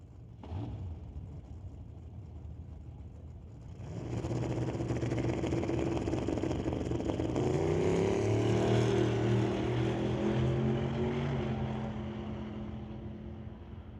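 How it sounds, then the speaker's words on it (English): A 1989 Mustang drag car launches on a test pass at a drag strip: a short burst, then a loud roaring engine climbing steadily in pitch through gears, sustained and close before slowly fading as it pulls away. "Aiden Katnick going to make a test pass here in his 89 Mustang"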